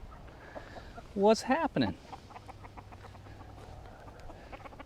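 A short burst of Silkie chickens clucking and squawking close by, three quick calls, amid quiet outdoor ambience, with a person speaking briefly.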